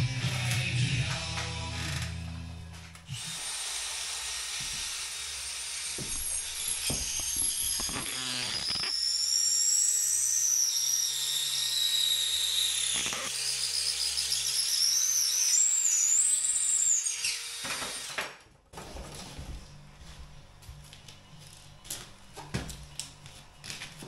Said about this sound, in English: Drilled these out 10mm, I'm just opening them up to 12